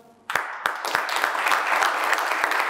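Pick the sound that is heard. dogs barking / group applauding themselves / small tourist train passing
group applauding themselves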